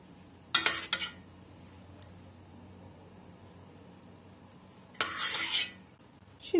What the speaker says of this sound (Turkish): Şimdi tekrar yerdeki harçtan alıp şöyle üzerinden döküyorum kaşıkla.